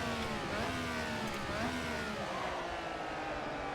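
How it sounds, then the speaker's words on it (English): A high-pitched vintage Ferrari Formula 1 engine revs freely, pitch climbing and dropping in quick swoops, loud and close throughout with a steady roar underneath. "First thing I notice is just how free revving the motor is."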